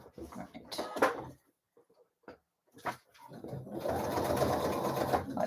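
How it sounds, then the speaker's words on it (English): A sewing machine stitching a dress starts up and runs steadily over the last two seconds, following speech and a few knocks and handling sounds. "Let's try not to sew over a needle this time."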